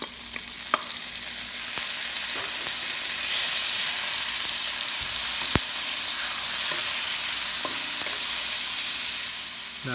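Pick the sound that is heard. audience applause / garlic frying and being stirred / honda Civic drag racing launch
garlic frying and being stirred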